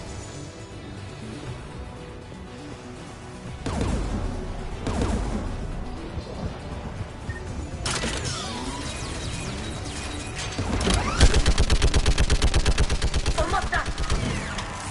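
Gunfire in the sci-fi shooter Mass Effect 3, bursts of loud automatic shots and impacts breaking out in waves, with a rapid rattling stream near the end and a voice speaking briefly over the battle.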